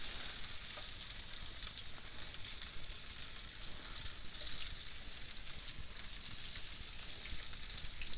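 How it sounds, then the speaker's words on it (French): Steady, dense sizzling of minced steaks frying in hot goose fat, a constant crackling hiss with occasional louder pops, close by and without voices. "Je fais cuire des steaks hachés dans la graisse d'oie."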